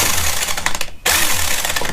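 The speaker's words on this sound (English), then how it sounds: "So you just put your drill on there" A power drill whirs steadily, turning a Mercury Thunderbolt 500 outboard engine over with a loud mechanical churn that cuts out briefly midway before resuming.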